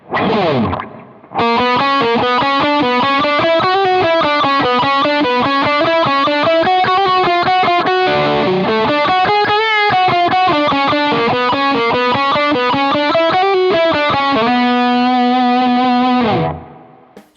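A heavily distorted electric guitar plays a fast, continuous riff with chugging rhythm and shifting notes, loud and steady until it cuts off.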